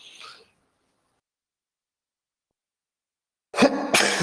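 A single sharp, forceful sneeze bursts out close by after several seconds of near silence.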